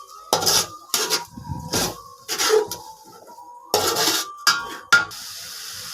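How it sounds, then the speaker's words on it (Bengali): Washed meat for biryani is stirred and sautéed in a pot, giving intermittent bursts of scraping and clattering as a utensil works against the metal, with quiet gaps between strokes. "তারপর ধুয়ে রাখা মাংস সবগুলো দিয়ে ভালোভাবে নাড়াচাড়া করে সবগুলোকে সুন্দর মতো কষিয়ে নিতে হবে।"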